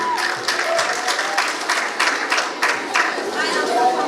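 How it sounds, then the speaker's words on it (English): Audience applause for a nine-year-old performer leaving the stage at a children's talent show elimination round, steady clapping with some crowd chatter mixed in, moderately loud throughout. "A round of applause to our student to stage."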